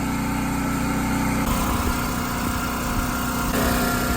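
A mower engine drones steadily while cutting grass on a levee, a loud close mechanical hum with a slight shift in tone partway through.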